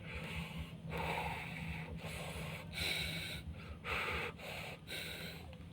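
Breaths drawn through pursed lips, as a breaststroke swimmer does, come in a rhythmic series of close, breathy gasps and snorts over a low steady hum, with no talk.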